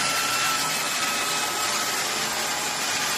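Shark Detect Clean&Empty auto-empty upright vacuum cleaner running at close range, a loud, steady whooshing whine that holds level throughout with no talking.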